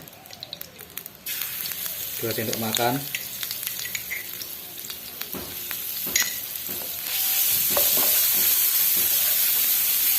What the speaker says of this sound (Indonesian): sekarang saatnya kita tumis baceman bawang merah, bawang putihnya